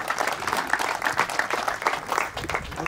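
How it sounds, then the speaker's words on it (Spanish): Guests at a quinceañera party give the parents a round of applause, moderately loud scattered clapping from a crowd that continues for a few seconds without speech. "Un fuerte aplauso para ellos."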